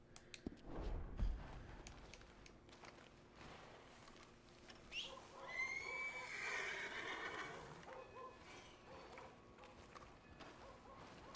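A horse whinnies loudly in Red Dead Redemption 2, its neigh rising and trailing off amid soft hoof clip-clops and faint outdoor ambience, with no talking.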